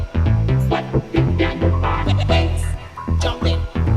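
Deep tech house synth bassline recreating a track, playing a loud, punchy, syncopated pattern of short repeated notes with brief gaps, mixed with other synth parts and no talk.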